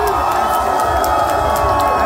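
An audience at a freestyle rap battle cheers and shouts loudly and steadily, a dense crowd roar with whoops and no breaks.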